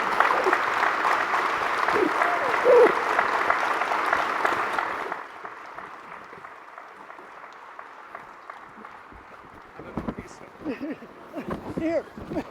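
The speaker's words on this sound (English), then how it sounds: "I want you to stand and applaud the JA Business Hall of Fame inductee, Llyod Winnecke." At a Junior Achievement Business Hall of Fame ceremony, the audience gives a standing ovation for an inductee with loud, sustained clapping that stops abruptly, leaving scattered room sounds and low voices.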